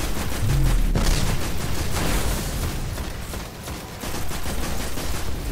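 Heavy continuous gunfire in the Destiny video game forms a dense, loud wall of overlapping shots and blasts throughout.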